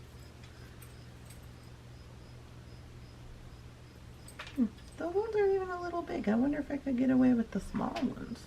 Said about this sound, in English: So if you hear some meowing and some beads rolling across the floor, that's what's going